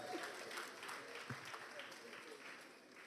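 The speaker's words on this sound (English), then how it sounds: "A round of applause for him, please." Audience at a Lagos State records and archives bureau presentation applauding a commissioner, a faint, steady patter of clapping from a modest crowd, with some background voices.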